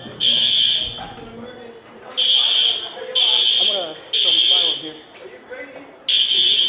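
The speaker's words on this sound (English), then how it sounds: "System sensor L series fire alarm." System Sensor L-series fire alarm sounding in a school, loud electronic horn blasts repeating in an even on-off pattern, with people talking between and under the blasts.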